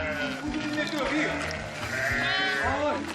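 A flock of sheep bleats repeatedly and close by in rocky Cappadocia countryside, overlapping calls rising and falling over a steady background murmur.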